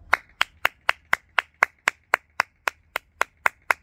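A single pair of hands claps fourteen times in an even, steady rhythm, close and crisp with short gaps between each sharp clap and nothing else heard.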